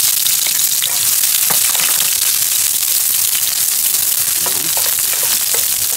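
Onions fry loudly in a hot pan, a dense, steady sizzle with scattered pops and crackles running throughout, close and without talk.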